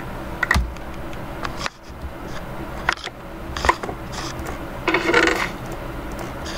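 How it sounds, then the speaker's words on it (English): A computer keyboard clatters close by during a game of Minecraft, with irregular bursts of key taps and sharper clicks scattered throughout. "Ignore my bad typing."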